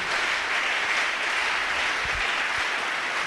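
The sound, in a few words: church congregation applauding loudly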